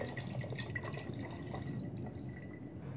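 Cold water trickles and drips into a glass for a jawbreaker experiment, a soft, close splashing stream that fades off near the end.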